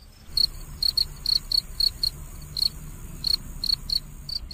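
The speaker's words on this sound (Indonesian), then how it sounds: "sambil merunut arah suara di mana jangkrik-jangkrik mengerik" Crickets chirp repeatedly in a graveyard at night, a steady series of short, bright, evenly spaced pulses close by over a low ambient hum.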